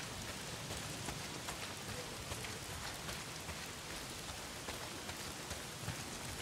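Heavy rain pours down in the video game Days Gone, a dense, steady hiss of drops covering the whole scene without letup, even and moderately loud.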